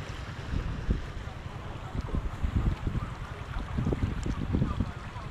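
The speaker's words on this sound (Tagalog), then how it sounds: "Ang lakas ng baha." A flooded river churns with a low, steady roar, mixed with buffeting wind noise on the microphone.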